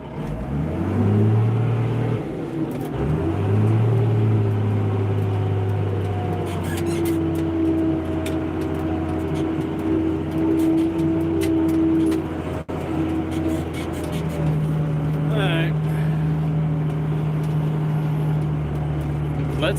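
A tractor fitted with a front bucket drives and turns around, its engine a loud steady close drone with shifting pitch as it works, heard alone.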